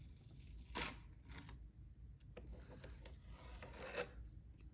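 Protective plastic film being peeled off a new MSI RTX 5060 Shadow 2X OC graphics card, heard as a sharp ripping rasp followed by quieter crinkly scrapes and a second brief tearing burst, close and alone.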